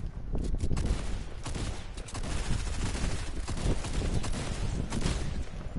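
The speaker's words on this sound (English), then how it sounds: "Why are you shooting me?" Dense, rapid video game gunfire rattles nonstop in loud overlapping bursts, close and dominant throughout with no talking.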